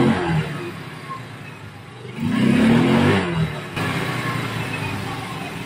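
A Yamaha Mio 125i scooter engine with a misfire and no idle runs steadily, rising briefly into a louder rev before settling back to an even idle hum.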